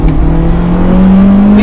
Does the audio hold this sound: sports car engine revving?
yes